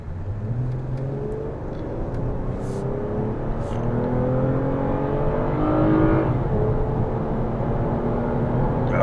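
A 2022 Toyota Avalon accelerates hard toward 70 mph on a straightaway, its engine note climbing steadily through rising gear sweeps with a brief shift dip, heard from inside over continuous road and wind roar.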